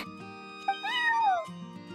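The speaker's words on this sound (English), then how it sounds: "that's my neighbor's cat" A cat meows in the video game Genshin Impact, one drawn-out, rising then falling call heard clearly over soft background game music.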